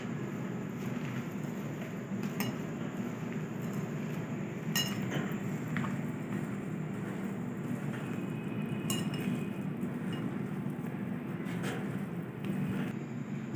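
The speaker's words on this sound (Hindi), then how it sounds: "सारी चीज़ों को अच्छे से मिक्स कर लेंगे।" A spoon stirs potato samosa filling seasoned with chicken powder and salt in a bowl, giving steady soft scraping with a few light metallic clinks, close and continuous with no talking.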